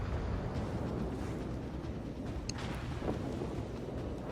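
The Bismarck's secondary guns fire during a naval battle video game, a low, continuous rumbling roar with a few faint distant bangs breaking through the dense background.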